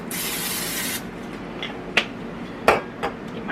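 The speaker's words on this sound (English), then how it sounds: "I'm going to spray it" A steady hiss of Pam cooking spray into an 8 by 8 inch cake pan lasts about a second, followed by a few light metallic clinks and taps.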